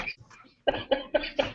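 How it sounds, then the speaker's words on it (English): A person coughs four times in a quick series of loud, close bursts, following a few softer throat noises at the start. "after that cough, I can tell."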